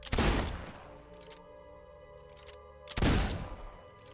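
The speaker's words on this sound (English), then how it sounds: "With this rifle, he can just quick shoot a bullet while he's still in the middle of reloading if you're timing it" Rifle shots in the video game Fable 2: two loud, sharp blasts about three seconds apart, each with a short ringing decay, separated by a quieter stretch of game ambience.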